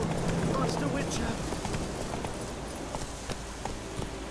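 Roach, a horse in the video game The Witcher 3, gallops with rapid clip-clopping hoofbeats over a dense, busy game soundscape that stays fairly steady throughout.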